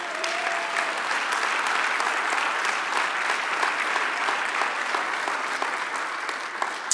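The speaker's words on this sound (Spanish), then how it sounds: "Dale un aplauso al Señor." A church congregation applauds together in a dense, sustained wash of clapping that holds steady for several seconds, fairly loud and close, with no voices standing out.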